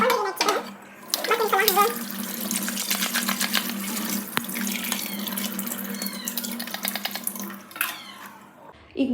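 Raw chicken rinsed under a running kitchen tap for a biryani, water splashing steadily into the sink at close range, with a cat meowing now and then in the background and a steady hum underneath.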